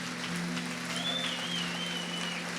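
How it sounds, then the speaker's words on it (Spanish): A church congregation applauds during a sermon, a continuous, even wash of many hands clapping at moderate volume with no pauses, heard on its own without talk. "dele aplauso al Señor"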